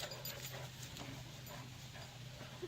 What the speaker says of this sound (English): Look at them panting.